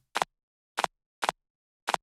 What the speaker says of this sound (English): I started with this clap. It's from the Lila Cabo Perry pack